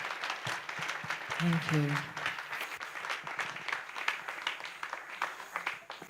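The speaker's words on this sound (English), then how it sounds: "Can we have another round of applause, please" An audience at a Navaratri Puja evening program applauds steadily for several seconds after a performance, with a voice briefly speaking over the clapping.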